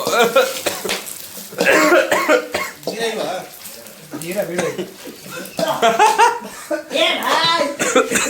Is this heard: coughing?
yes